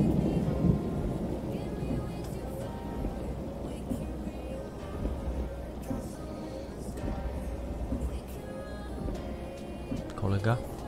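Rain and rolling thunder fill a bus drive across Iceland in Euro Truck Simulator 2 with ProMods, a dense low rumble and steady wash under a continuous road drone, with voices talking over it.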